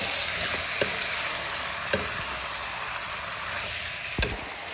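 Chicken fries in a pan with a constant close sizzle, broken by a few sharp scrapes and knocks as it is stirred, about three distinct strokes spaced apart.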